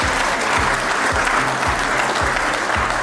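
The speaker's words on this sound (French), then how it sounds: "on applaudit encore pour Yolande." A crowd at a gala claps continuously and loudly, a dense, steady wash of applause throughout.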